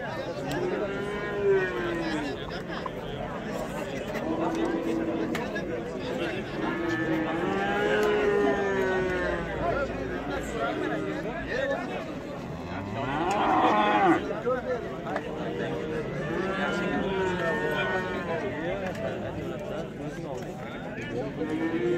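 Cattle moo repeatedly at a busy livestock market where bulls, heifers and Simmental cows are traded, with long overlapping lows near and far under constant crowd chatter and bargaining voices.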